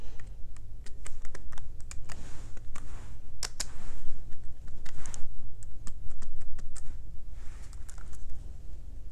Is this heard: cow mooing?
no